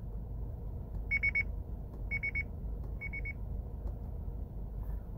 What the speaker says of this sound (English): you can adjust the warning volumes and it will beep at you showing you how loud it is